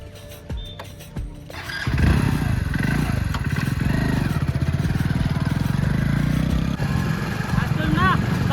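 A motorcycle engine starts after a few clatters, then runs at a steady, loud, close idle with a fast putter while people talk over it.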